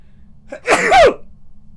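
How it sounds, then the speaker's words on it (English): A single sharp sneeze, a quick intake of breath followed by a loud burst, close and alone against quiet. "I got a sneeze."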